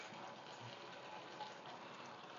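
A small splash of liquid poured into a pan while making duck breast with orange sauce, a faint, steady gushing pour lasting a couple of seconds.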